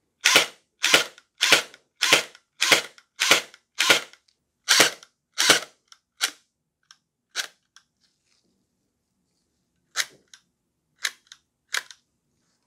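Splatrball gel blaster toy gun, upgraded with metal gears and a strong spring, fires a rapid run of about a dozen sharp, loud close shots, then pauses and resumes with a few scattered, weaker shots.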